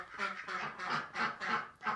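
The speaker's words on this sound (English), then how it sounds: "the ducks want to come out" Several ducks quack in a steady run of calls inside a chicken coop, fairly close and clear, with a short pause before a final call.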